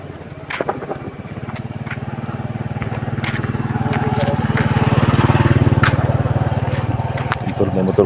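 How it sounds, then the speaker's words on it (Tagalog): A motorcycle engine drones steadily on a highway, rising slightly in loudness, with people talking over it. "So may motor kami na sa lubong dito ngayon."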